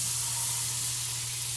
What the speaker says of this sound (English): then put the butter in your frying pan